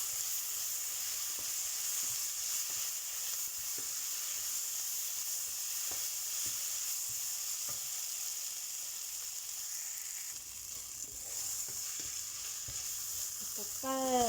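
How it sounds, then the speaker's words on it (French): Onions, ginger and garlic fry over lowered heat for a chicken curry, a steady, fairly quiet sizzle with occasional stirring clicks and scrapes, and a soft high whine rising at the very end. "On mélange bien."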